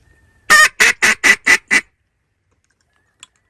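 Geese honking during a Tennessee duck hunt, six loud, evenly spaced honks in quick succession close by, then quiet.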